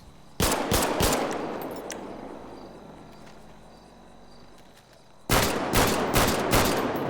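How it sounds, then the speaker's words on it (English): Loud rapid bursts of AR-style rifle and shotgun fire in a roleplay video game, a volley at the start, a few seconds of quiet tail, then another close burst of shots. "AR style rifle, shotguns."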